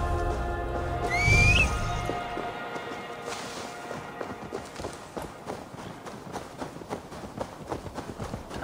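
Horse whinnies loudly once near the start in the Assassin's Creed Valhalla video game, followed by a steady, continuous clip-clop of hooves trotting along with faint background ambience.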